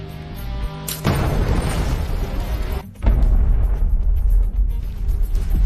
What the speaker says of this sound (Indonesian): suara keras ledakan yang ditimbulkan